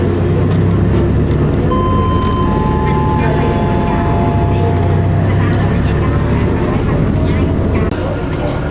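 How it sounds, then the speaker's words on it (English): A tram rolls past close by in Launceston, Tasmania, rumbling on its rails with a screechy wheel squeal, loud and steady throughout. "That's the tram."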